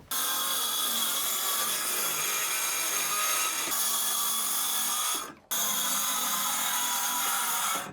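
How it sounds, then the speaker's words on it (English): Power saw cutting out a wooden floor nailed to joists, a continuous loud buzzing cut running for several seconds with a brief drop and restart near the end. "Step one, we're gonna cut the floor out."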